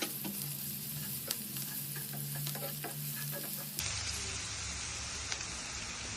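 Ginger and garlic fry in hot oil as a spoon stirs them, a continuous crackling sizzle close by with occasional sharper clicks of the utensil, and the hiss changes character partway through.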